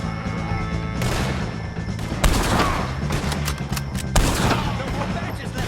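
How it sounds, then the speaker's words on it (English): Rapid gunfire in a Red Dead Redemption 2 shootout against O'Driscolls, dense volleys of cracking shots and sharp bursts layered over a constant noisy battle backdrop, loud and near. "shoot some of these O'Driscolls!"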